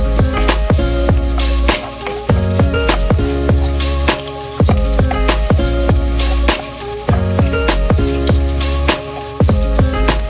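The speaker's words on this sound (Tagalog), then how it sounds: "At igigisa natin yung bawang." Garlic sautéing in hot oil in a pan, a steady close sizzle with stirring that runs the whole time under rhythmic background music.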